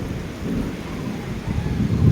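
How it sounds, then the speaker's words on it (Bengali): Steady rain falls with a low rolling rumble of thunder underneath, close and fairly loud for a brief stretch. "হাই, কি সুন্দর বৃষ্টি"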